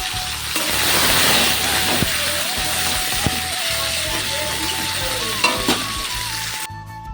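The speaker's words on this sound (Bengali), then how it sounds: "চলো ডালে ফোরনটা দিয়ে নিই" Spices and onion crackle and sizzle in very hot oil for a Bengali dal tempering, a loud steady fry with a few clinks of stirring throughout, cutting off abruptly near the end.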